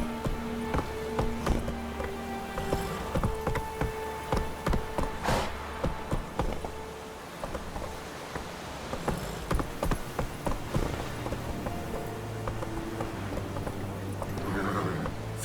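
Hooves of Roach, the horse in The Witcher 3, beat a steady clip-clop rhythm through the whole stretch, close and moderately loud, with game music and ambience underneath.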